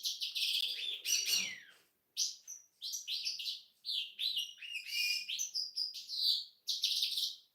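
A small pet bird chirps indoors in quick bursts of bright, high tweets and trills, close and fairly clear, with brief pauses between phrases and no talking.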